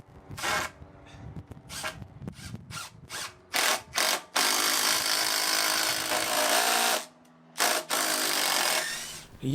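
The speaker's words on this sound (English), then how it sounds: "we'll need to pre-drill because that post is really hard wood" A power drill bores a pilot hole into a hard timber post on outdoor hardwood steps, loud whirring bursts starting and stopping several times, then one long sustained run with a brief pause near the end.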